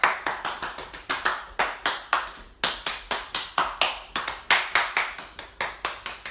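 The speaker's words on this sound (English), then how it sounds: "Okay, clap your hands." Hands clapping in a steady rhythm, about twenty-five sharp claps close by, with a brief break partway through before the beat resumes.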